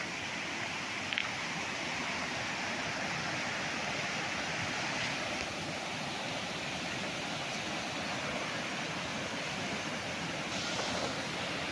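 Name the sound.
river flowing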